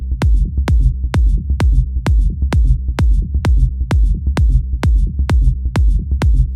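A steady electronic kick drum thumps at a regular four-on-the-floor pulse, about fourteen loud punchy hits, locked together with a deep sustained bassline underneath, all close and dense with no voices.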